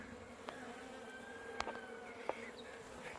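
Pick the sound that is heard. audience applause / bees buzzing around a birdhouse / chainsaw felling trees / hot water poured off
bees buzzing around a birdhouse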